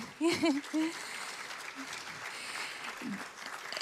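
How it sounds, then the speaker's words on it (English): A spring dance recital audience claps, a soft scattered applause heard from a distance, while a voice speaks over it near the start. "Let's give Joe a round of applause in the back"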